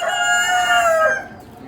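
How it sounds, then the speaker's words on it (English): A rooster crows loudly and close, one drawn-out call that trails off abruptly, at a small animal livestock auction with silkie chickens. "Silky chickens."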